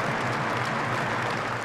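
A large stadium crowd at Headingley cheers and applauds for Rob Burrow, a dense, steady roar with no breaks that fills the whole moment.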